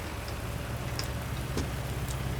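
Rain falling in a Farming Simulator game: an even, continuous hiss of rainfall with a low rumbling hum underneath and a few faint ticks, steady from start to end without speech.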